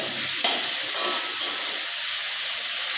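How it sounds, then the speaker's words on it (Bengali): Sliced onions fry in a small amount of hot mustard oil, giving a loud, steady sizzle and hiss with a few brief stirring clicks near the start. "পেঁয়াজটাকে কম তেলের মধ্যে পেঁয়াজটাকে ভাজা ভাজা করতে হবে।"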